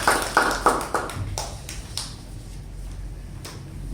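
A few people at a Toastmasters club meeting clap, a handful of sharp, close handclaps at the start that quickly thin into scattered single claps and taps.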